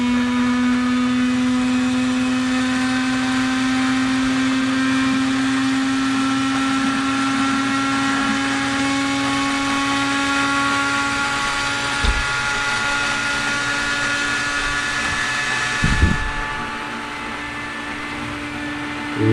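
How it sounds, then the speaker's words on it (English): Antonov An-2 engine inertia starter spools up, a loud steady mechanical whine and whirr with ratcheting gear texture that holds for about twenty seconds and rises slightly, like a spinning bicycle flywheel, with a couple of clunks near the end. "you can actually hear like a bicycle flywheel or bicycle wheel when it sort of reaches its max RPM"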